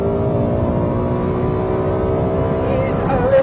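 A Lexus LFA's high-revving V10 screams steadily at full throttle during a drag race, a dense harmonic engine roar held loud and close throughout, with a slight rise in pitch near the end.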